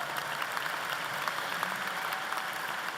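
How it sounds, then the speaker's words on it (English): A large audience applauds at a university convocation, the clapping dense and even but fairly faint and distant, with no clear voices. "Give him a round of applause."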